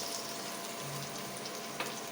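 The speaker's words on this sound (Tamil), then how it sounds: "கொஞ்சமாக தண்ணியை ஊற்றி மிக்ஸ் பண்ணிக்கிறேன்" Steady sizzling and frying hiss from a pan of beef biryani spices in a cooker, faint and continuous, with a soft splash of water being poured in and a light clink near the end.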